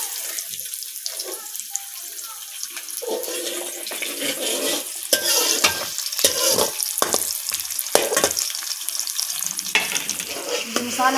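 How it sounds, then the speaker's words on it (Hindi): Onions sizzle and fry in hot ghee in a kadhai, a steady crackling hiss with bursts of stirring, close and fairly loud with no talking. "अब जी इसमें डालने लगी हूँ प्याज।"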